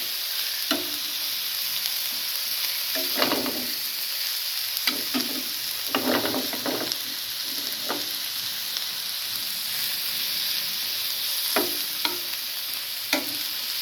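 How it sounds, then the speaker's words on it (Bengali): Onions frying in a pan after two eggs have gone in, a soft steady sizzle broken by several short bursts of stirring and scraping, close and without talk. "পেঁয়াজটা ভেজে নিব।"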